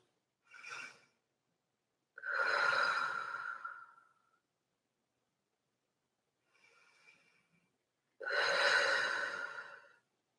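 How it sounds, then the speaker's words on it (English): Slow pranayama breathing is close and soft: two long, airy breaths and a shorter one with quiet pauses between, in a still room with no talking. "if you're breathing slowly"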